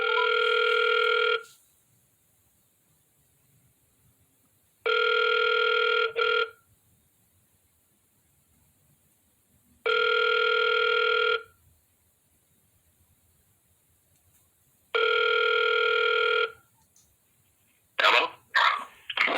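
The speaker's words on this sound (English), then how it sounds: "Making a phone call now." Telephone ringback tone on an outgoing call to an attorney's office, four evenly spaced rings about five seconds apart, each lasting roughly a second and a half, clear and alone, with a brief clatter at the end as the line picks up.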